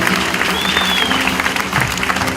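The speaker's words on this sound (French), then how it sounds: "Acclame très fort pour le Seigneur." A church congregation at a French-language worship service applauds and cheers loudly, a dense and steady wash of clapping and voices that fills the whole moment.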